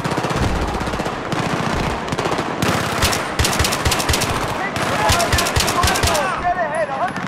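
SCAR rifle fire in the video game Battlefield 3, loud rapid automatic bursts of gunshots continuing throughout with brief gaps, close and dominant, with an electronic tone near the end.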